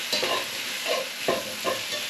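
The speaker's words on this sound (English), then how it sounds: "Stir all that in." Salt, pepper and smoked paprika being stirred into a Basque marmitako fish stew: a soft, quiet pan sizzle broken by four evenly spaced scraping strokes of a spoon.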